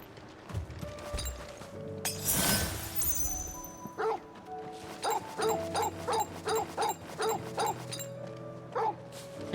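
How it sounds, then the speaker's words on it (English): A dog barks in Final Fantasy XVI, first in a short burst and then in a long run of regular, evenly spaced barks, heard alone over quiet game ambience after a brief crash. "Just like a real dog."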